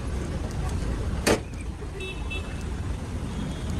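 Road traffic at a youth festival reception in Diphu, with a steady rumble of passing vehicles and one short car horn toot partway through, then faint higher beeping later.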